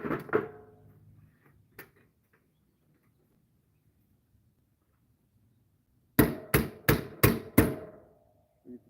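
A hammer driving in the last rivet: a couple of hard knocks, a long quiet gap, then five loud, evenly spaced metallic blows close by.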